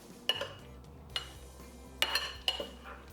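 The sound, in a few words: tossing tofu with garbanzo bean flour in a bowl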